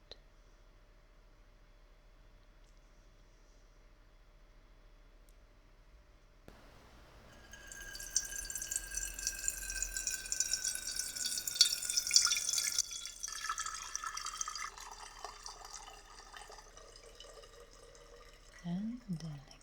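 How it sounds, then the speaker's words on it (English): Brewed black tea is poured through a strainer into a teapot after a quiet start, with a thin, bright trickling stream that runs several seconds, then tapers into drips, recorded close and soft. "After about 4 minutes, I pour the tea over the strainer"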